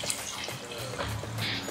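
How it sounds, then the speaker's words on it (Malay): Meat broth is poured into a cooking pot of asam pedas with tetel, a steady soft splashing and gurgling of liquid running for the whole stretch, close and moderately quiet. "Masukkan air rebusan daging."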